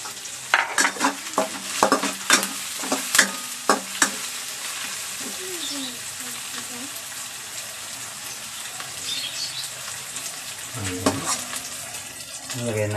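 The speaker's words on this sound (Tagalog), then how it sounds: "Sutayin muna natin itong onion. Ayan. Lagay natin ating garlic." Onion and garlic sautéing in a pan for sardine pancit bihon, a steady sizzle of frying with sharp spatula scrapes and stirring clatter, heaviest early and later settling into continuous frying.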